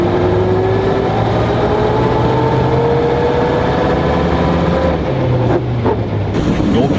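A Peugeot 156 with a six-litre, valveless engine, once used by the French presidency, runs steadily with a loud low rumble and a slowly rising whine, continuous throughout and close by.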